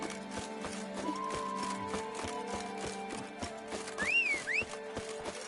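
A horse gallops in The Witcher 3 video game, its hooves beating a steady, fast clip-clop rhythm under music, with a brief whistling tone near the end.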